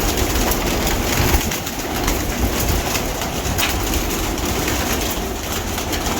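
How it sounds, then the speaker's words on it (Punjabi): Mamdin pigeons coo steadily at close range in a loft, their soft throaty calls continuing throughout over a dense, busy background hiss. "ਇਹ ਮਾਮਦੀਨ ਕਬੂਤਰ ਆ"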